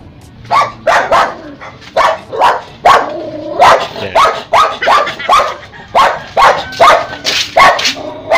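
A dog barks over and over in quick, loud bursts, sometimes in doubled yaps, close by with only brief pauses between.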